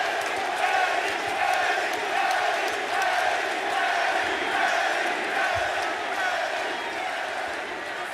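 A professional wrestling arena crowd at a main event roars and cheers in a sustained, dense wall of noise, loud and continuous throughout with no breaks.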